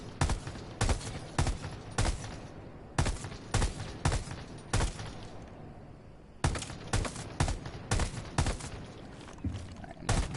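Gunfire in a Rainbow Six Siege shooting range: repeated loud bursts of rapid shots in clusters, with a brief pause in the middle before the firing resumes, and no talking.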